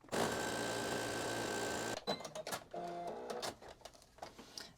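A sewing machine stitching down a necktie, running in a steady loud whir for about two seconds, then shorter bursts of stitching with pauses and handling clicks.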